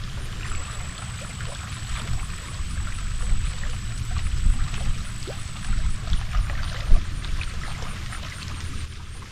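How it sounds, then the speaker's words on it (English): Water laps and splashes gently along the shore of a Wisconsin wildlife area, a steady close wash with small irregular surges throughout, alone with no talk. "I can definitely hear the water."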